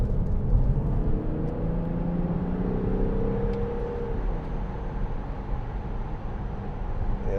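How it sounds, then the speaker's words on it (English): A 2010 Audi Q7 with a 6.0-litre V12 TDI engine and Tiptronic Quattro drive accelerates on a road, giving a steady, deep engine rumble and whir heard from inside the car, with no talk. "let's just give it some gas going up here if the road's clear"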